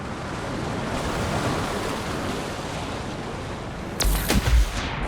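A flying character skims through water in the video game Anthem, giving a steady rushing, surf-like wash of spray. A sharp splashy burst hits near the end.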